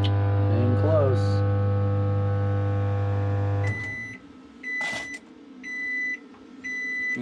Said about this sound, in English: You can actually hear the inverter actually working a little bit.